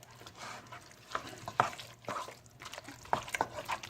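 Tomato sauce being stirred and mixed in a pan, with soft scraping and stirring strokes in an irregular rhythm, close by, with faint background noise.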